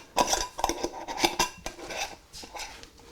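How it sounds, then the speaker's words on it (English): Spoon stirring dry yeast and sugar in a measuring cup for challah dough, a quick series of close, sharp metallic clinks and scrapes against the cup, unevenly spaced and fading toward the end. "we will stir this up so the yeast and the sugar are integrated"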